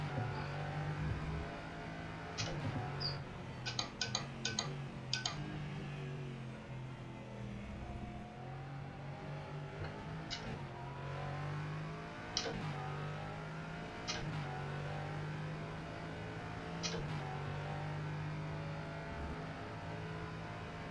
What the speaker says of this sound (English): The engine braking that slows down.